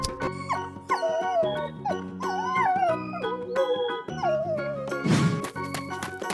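A dog in a 3D animal video game howls repeatedly, long wavering tonal cries that rise and fall one after another, loud and close, with a brief burst of noise near the end.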